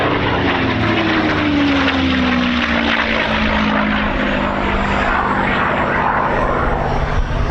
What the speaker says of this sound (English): the Allison engine Mustangs were outstanding combat aircraft in their own right